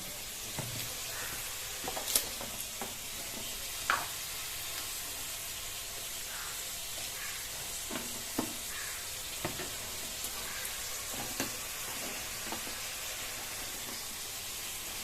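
Spices frying with whole garlic and soybean chunks in a pan give a steady soft sizzle and hiss, with occasional faint stirring clicks scattered throughout, low and even in level.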